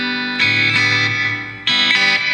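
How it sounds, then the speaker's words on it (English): Electric guitar through a Zoom G5 multi-effects unit on a 1960s-style surf patch with reverb and tremolo rings out in two strummed chord phrases, each one pulsing in steady waves and decaying into a reverb tail. "Got a lot of reverb type of stuff, probably a little tremolo as they did in the 60s"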